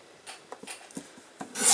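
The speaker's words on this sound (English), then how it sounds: "you're going to take your cardstock and you're going to trim that to" Cardstock being trimmed on a paper trimmer, a few short scraping and rubbing strokes up close followed by a louder swipe of the blade, with no talking.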